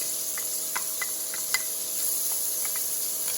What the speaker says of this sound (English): I'll let this saute for just a second and then we'll start adding our other ingredients.